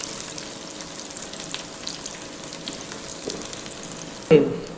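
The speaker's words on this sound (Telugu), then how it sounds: "ఇందులో దొండకాయలు వేసుకుందాం ఇది తీసాక." Ivy gourds (dondakaya) fry in plenty of hot oil with a steady, even sizzle throughout, and a louder burst of crackling hits near the end as more food drops into the pan.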